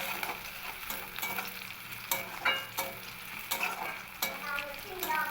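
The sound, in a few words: onion, garlic and green chili frying in a pan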